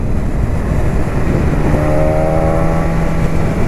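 A BMW S1000RR HP4 sport motorcycle engine runs loud and close, a dense steady roar with a rising rev near the end, no voices over it.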